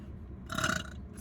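A single short burp from a young woman, close and clear, rising briefly out of quiet background.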